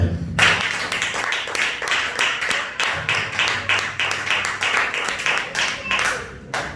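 A church congregation claps in a steady, rhythmic pattern, loud and close, with repeated sharp claps running throughout and a low murmur of voices underneath.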